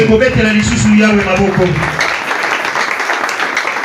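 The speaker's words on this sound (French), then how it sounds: "Est-ce qu'on peut une fois de plus acclamer la parole de Dieu?" Congregation applauding during a Sunday celebration church service, a broad wash of clapping mixed with cheering voices at first, then settling into steady, dense applause that fills the room.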